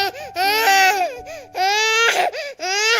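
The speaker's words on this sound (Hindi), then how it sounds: "बच्चा रो रहा है, आप क्या सुना रहे हो मेरे को?" Recording of a baby crying, loud repeated wailing bursts with short gasping pauses between them, close and alone.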